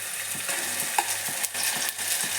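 Masala spices and turmeric fry and sizzle in a pan for Mangalorean crab sukka, with a steady close hiss broken by rhythmic scraping strokes of a stirring spoon, no voices.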